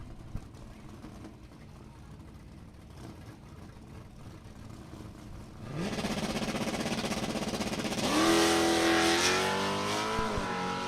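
A drag race run between a 1965 Olds 442 and a 1986 Buick Grand National, engines swelling from a distant rumble to a loud, close roar of hard acceleration with rising revs through the gears.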